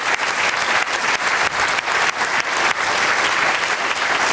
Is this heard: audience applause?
yes